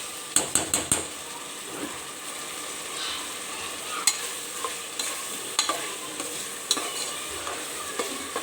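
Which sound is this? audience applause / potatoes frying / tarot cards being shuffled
potatoes frying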